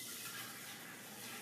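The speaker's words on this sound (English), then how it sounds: "Now I'm going to pour it" Cold brew coffee pours in a steady, continuous splashing stream into a jug, a close liquid gush with no pauses and no talking.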